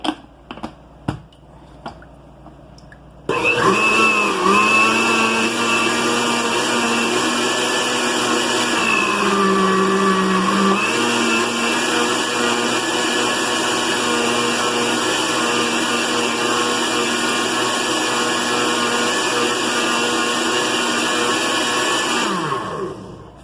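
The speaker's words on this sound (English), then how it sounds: "So now we're going to go ahead and put our lid on and blend it well" A blender running steadily on a flan cake mixture, a loud continuous whir that starts abruptly after a few light clicks and holds with a slight pitch dip midway before cutting off near the end.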